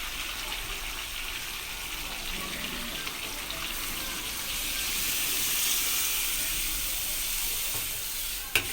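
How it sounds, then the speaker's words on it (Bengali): Hot water poured into a pan of chicken and potato bhuna as it cooks, giving a continuous hissing sizzle and steady pouring rush that swells midway, close and alone, ending with a brief clink. "এখন গরম পানি দিয়ে দেবো"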